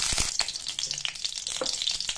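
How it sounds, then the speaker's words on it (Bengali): Pointed gourd (potol) frying in oil in a pan, a steady close sizzle with crackles and a few stirring clicks, no voices. "দেখুন পটলটাও আমার লাল লাল করে ভাজা হয়ে গেছে।"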